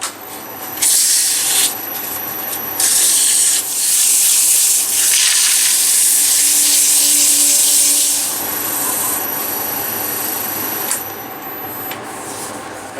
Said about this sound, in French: on va poncer plus fin